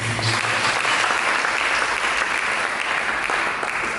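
A congregation at a church service breaks into sustained applause during a sermon, a thick, even stream of many hands clapping at close range.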